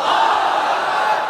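A large crowd at a rally shouts the takbir together, a loud, sustained mass roar of voices that fills the space without a break.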